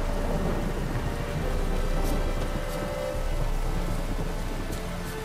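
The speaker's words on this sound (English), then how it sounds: "The storm, damn it." Steady heavy rain pours throughout a thunderstorm in The Witcher 3: Wild Hunt, a dense, loud hiss with no breaks and no speech over it.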